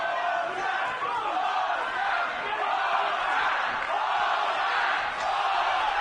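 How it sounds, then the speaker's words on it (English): A boxing arena crowd roars and chants a fighter's name in rhythmic waves during round six of a 12-round bout, loud and sustained throughout, a dense wall of massed voices without a break. "The crowd breaks out in chants of Oscar, Oscar here in round 6."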